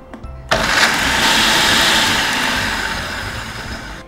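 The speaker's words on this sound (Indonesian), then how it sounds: "Kalau udah, kita mix aja sampai dia homogen." An electric mixer starts abruptly and runs steadily, whirring loudly while it mixes pie shell dough made with fiber cream and coconut oil.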